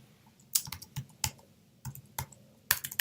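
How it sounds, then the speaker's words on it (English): Scattered bursts of keystrokes on a computer keyboard in a library, clustered in quick runs with short pauses, close and fairly quiet. "You go in and you type in just about anything."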